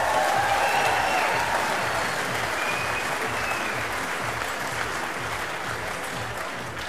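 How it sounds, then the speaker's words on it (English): Sustained loud applause from the audience at the Golden Shears shearing competition, a dense wash of clapping that holds steady and tapers only slightly. "Round of applause."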